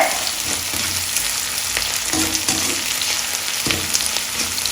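Chicken pieces fry in a pan for Kerala-style chicken pickle, a loud, continuous sizzle with occasional stirring knocks and scrapes, no one speaking.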